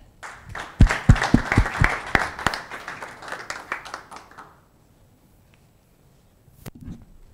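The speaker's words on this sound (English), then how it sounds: "Applause." An audience applauds at a startup pitch competition semi-final, the clapping swelling loudly and then dying away after about four seconds into near silence, with a faint stray sound afterward.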